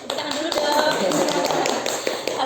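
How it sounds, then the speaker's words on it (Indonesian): A small group in a group coaching practice session claps hands, with scattered, uneven claps mixed with voices talking throughout. "Tepuk tangan dulu dong."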